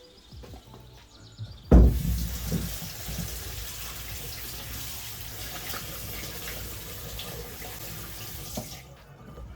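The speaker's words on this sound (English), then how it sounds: "We need to give them a really good wash now to get all that soil and dirt off" Homegrown garden potatoes are washed under running tap water, a steady rush of water splashing into a sink that starts abruptly and continues nearly unbroken for about seven seconds before cutting off.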